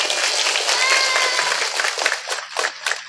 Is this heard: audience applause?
yes